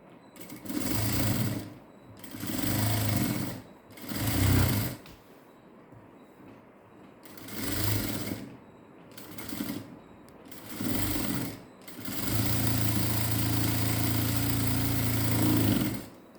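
A sewing machine runs a double stitch on a diamond neck design in several loud bursts of rapid stitching with short quiet gaps, then finishes with one longer continuous run.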